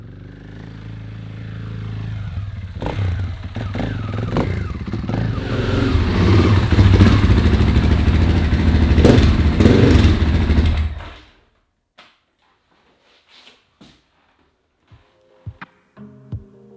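A KTM 500 dirt bike weaves through woods around trees, its engine loud, close and continuously revving for about eleven seconds before cutting off, leaving near-silence broken by a few faint clicks and knocks.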